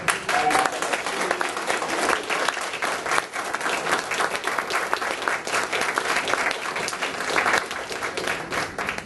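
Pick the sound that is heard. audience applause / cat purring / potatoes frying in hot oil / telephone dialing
audience applause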